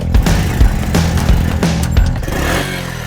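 A 110 cc Honda-style Postie bike motorcycle engine runs close by with a steady low thrum, rising in a few rev pulses over about three seconds, with no talk.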